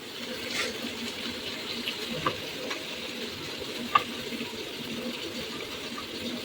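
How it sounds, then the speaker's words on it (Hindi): Tomatoes and peas fry in a pan for Maggi noodles, sizzling steadily while a few faint scrapes and clinks from stirring come through. "अब इसमें ये टमाटर डाल दूँगी मैं, और साथ में ये मटर भी।"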